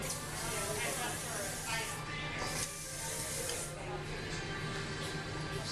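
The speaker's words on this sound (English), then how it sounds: "And then I'm going to go ahead and spray it again." A steady, continuous hiss of hair spray from an aerosol can, close and fairly loud, running nearly unbroken throughout.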